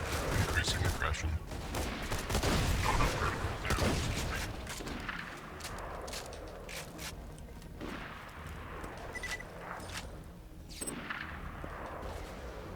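Shotgun fire in the Borderlands game, with repeated loud blasts and mechanical clatter in a dense burst, then quieter scattered shots with speech mixed in.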